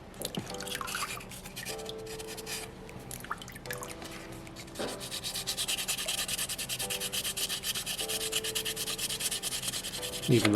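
A soapstone butterfly carving being sanded by hand with sandpaper, giving repeated scratchy rubbing strokes in a steady back-and-forth rhythm, close and clear with faint tonal hum between strokes.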